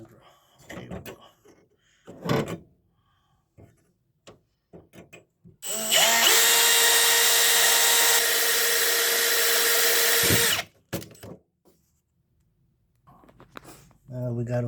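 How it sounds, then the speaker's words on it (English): A hammer drill bores holes into the metal burners of a natural gas furnace during a propane conversion, one sustained, loud whirring grind of about five seconds. Short clanks and handling noises come before and after it, and people talk around it. "Hammer drill."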